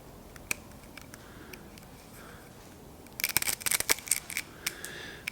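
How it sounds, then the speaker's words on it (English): A razor blade slicing rubber bands off a sphere project, heard as quiet ticks and then a cluster of sharp snapping clicks near the end, close and without speech. "I'm not pressing too hard with the razor blade."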